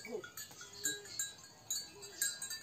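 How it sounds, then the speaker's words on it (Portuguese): Goats bleating intermittently at a rural homestead, faint and somewhat distant, with several short wavering calls spread across the clip and a bell-like clink in the background. "Que chegou aqui uns bodes aqui."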